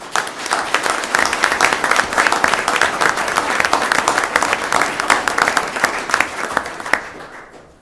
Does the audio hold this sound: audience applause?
yes